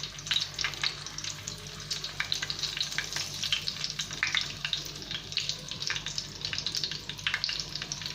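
Green chillies stuffed with fresh coconut shallow-fry in a pan, giving a steady, soft sizzle and crackle that runs the whole time with no talk over it.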